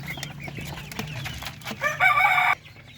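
Chickens cluck close by, short scattered calls, before a rooster lets out a loud crowing call near the end, with a low farmyard hum underneath.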